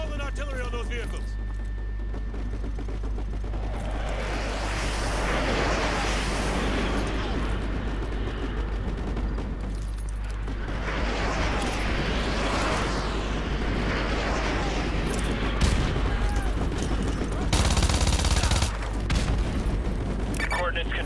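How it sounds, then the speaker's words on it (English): Artillery barrage in Call of Duty Modern Warfare 2 Campaign Remastered: heavy, rumbling booms roll and swell through the battle din, with a loud burst of blasts toward the end, under constant low roar and shouted voices. "Use your laser designator to call in artillery on those vehicles!"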